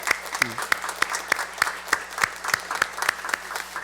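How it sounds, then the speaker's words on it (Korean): A church congregation claps in rhythm, sharp, evenly spaced beats roughly three per second over a softer bed of scattered applause, with a brief voice near the start. "모든 가정들을 축복하면서 박수하겠습니다."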